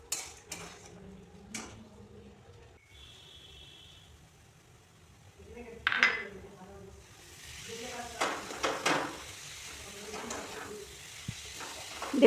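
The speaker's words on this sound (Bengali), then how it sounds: "অল্প কিছুক্ষণ নেড়েই তারপর নামিয়ে নেব।" Date-palm jaggery pitha filling stirred briefly in a pan, with soft sizzling and a few utensil clatters and scrapes, close but fairly quiet, and faint voice sounds in between.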